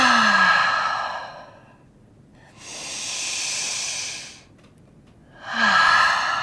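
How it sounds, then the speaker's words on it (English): Several people in a yoga class exhale together in long, audible breaths, two loud sighing releases separated by a steadier hissing breath, close to the mic with no talking. "I hear the lovely releasing exhales"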